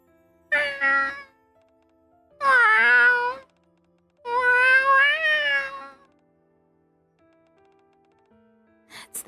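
Voiced cat meows from the game NyaNya Paradise come in three clear, drawn-out calls spaced across the stretch, loud and close with pauses of silence between, ending in a brief faint noise.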